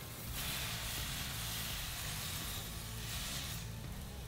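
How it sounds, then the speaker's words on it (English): Butter sizzling in a hot cast iron pan while brats cook, a steady broadband hiss that holds evenly throughout with no voices. "you see the butter sizzle?"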